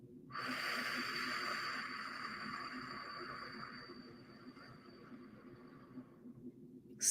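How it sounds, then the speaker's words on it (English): One long, deep exhale through pursed lips, a breathy hiss lasting about six seconds that starts strong and slowly fades, heard close up and alone. "inhale through the nostrils and blow out through pursed lips like we're blowing into a straw"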